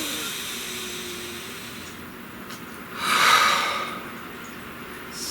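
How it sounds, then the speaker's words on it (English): A slow, deep breath drawn and let out close to the mic, swelling to a soft airy peak midway and fading back into a quiet room. "Please take a nice deep breath."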